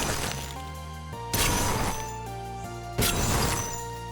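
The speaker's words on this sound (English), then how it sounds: "here are 3 variations of the ice spikes" Three icy spike effects from the video game Bean Beasts, each a sharp crystalline crack with chiming, ringing tones that hang and shift in pitch before the next strike.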